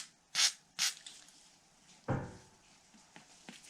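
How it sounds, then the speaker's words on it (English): Two quick, sharp hisses of a trigger spray bottle spraying cleaner on a grimy antique fishing reel, followed by a brief rustling scrub and faint scattered clicks in a quiet room. "Spray that grime a little bit."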